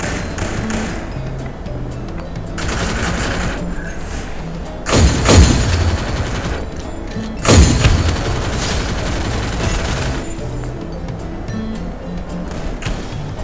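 Two loud, booming shotgun blasts ring out a few seconds apart in the Free Fire battle royale game, standing well above a steady rumble of game background noise.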